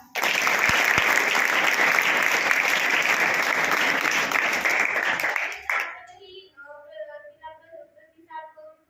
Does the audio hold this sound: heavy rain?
no